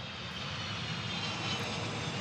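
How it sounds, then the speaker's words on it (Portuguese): Aircraft engines roar steadily at an airport, the planes that carry people to Area 51, a loud, continuous broadband drone with no talking. "Estamos vendo os aviões que levam as pessoas à Área 51."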